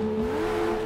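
Car engine held at a steady high rev in JDM: Rise of the Scorpions, a continuous droning tone with no break, loud and close, with no talking.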